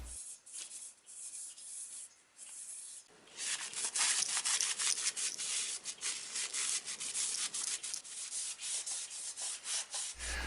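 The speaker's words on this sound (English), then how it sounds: "this is that wax that I was talking about earlier that I was going to put on the case that'll give the case a nice subtle" Wax is rubbed by hand onto the wooden case of a clock, making a steady, close, dry rubbing that is softer at first, then grows louder and continuous with quick back-and-forth strokes and no talk.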